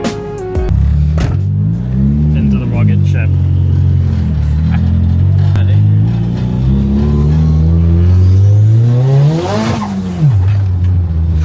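A Nissan S14 Zenki's engine revs loud and close, its pitch swelling and easing in waves, then climbing hard to a high-rev peak before dropping back.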